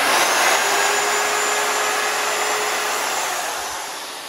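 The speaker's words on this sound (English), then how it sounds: "I'm using a router just to put a nice edge on there" A router runs continuously, loud and steady with a high-pitched whine, while edging the keel of a carved wooden drake pintail duck decoy, easing off slightly near the end.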